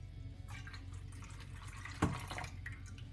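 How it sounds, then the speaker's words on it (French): Sparkling water being poured into pancake batter in a bowl, a quiet liquid splash with one brief clear drip-like pour at the midpoint, no talking. "Et je rajoute les 150 ml d'eau gazeuse."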